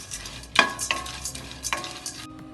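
Long pepper being dry roasted in a pan, stirred with a utensil. Quiet, scattered scrapes and light rattles come in irregular bursts, with no sizzle of oil, and fade to near silence at the end.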